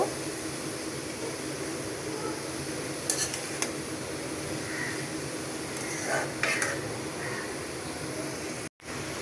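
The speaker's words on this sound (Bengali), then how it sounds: "এখন আমি এটাকে আরেকবার একটু নেড়ে ছেড়ে দিব" Shredded cabbage for a plain white bhaji fries in a pan while being turned, a continuous near hiss of frying overlaid with a few soft spatula scrapes and knocks.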